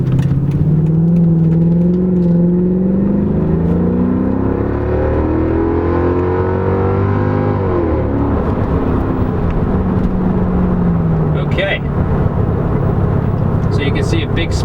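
A Mercedes C55 AMG accelerates hard, its engine note rising in pitch for several seconds before easing off into a steadier whir, loud and close from inside the car, with someone speaking over it.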